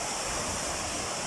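Waterfall at Tal Ferik in Samsun, Turkey: a steady, dense hiss of falling water filling the air evenly, with no rise or break in the short stretch and no voices.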